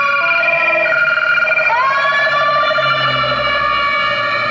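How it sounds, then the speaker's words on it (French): A Thai ambulance siren on a Bangkok street: a loud, close electronic wail with strong harmonic tones that sweeps and shifts pitch midway, then holds steady as the vehicle passes, with no talking. "Voilà, l'ambulance thaïlandaise"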